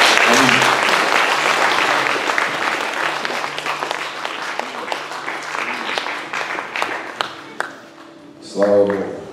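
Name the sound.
congregation applauding in church service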